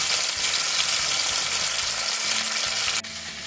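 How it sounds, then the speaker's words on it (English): Rump steak sizzles loudly in a hot frying pan, a continuous close crackling hiss that holds steady before dropping off sharply near the end. "the frying pan, which is now sizzling away in the background"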